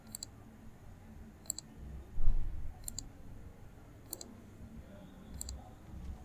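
A computer mouse gives crisp single clicks at a regular pace of about one per second or so, close and clear against a quiet room hum, with one brief soft thump partway through.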